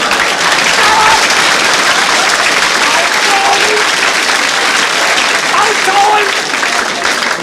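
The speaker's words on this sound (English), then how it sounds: "You're only applauding." Sustained audience applause from a live theatre crowd at a comedy variety show in Australia, dense and steady throughout with no clear voices on top.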